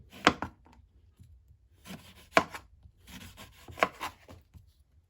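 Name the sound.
knife slicing a lemon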